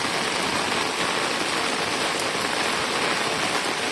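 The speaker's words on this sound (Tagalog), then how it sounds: "Grabe ang ulan." Heavy typhoon rain pours down in Macau during Super Typhoon Yagi under signal number 8, a dense, steady roar of rain hammering surfaces without letup.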